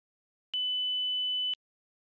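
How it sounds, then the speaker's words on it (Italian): A single steady electronic test beep from the audio check in the video game Black Myth: Wukong, a clean tone lasting about one second, played alone against silence. "Hai sentito il suono beep?"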